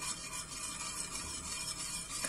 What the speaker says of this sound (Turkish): Güzelce çırpıyorum şöyle